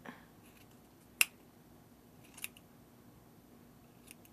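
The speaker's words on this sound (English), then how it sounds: "Be careful with the scissors and just cut" Scissors snip through the ends of a crochet yarn tassel: three crisp, isolated cuts spaced about a second apart in an otherwise quiet room.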